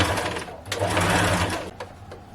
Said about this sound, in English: You make sure you top stitch.